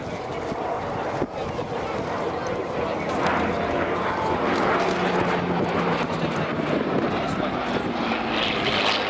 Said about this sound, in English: will have seen this aircraft flown as the beloved mount of Ray Hanna.